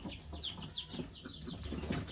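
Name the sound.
rooster clucking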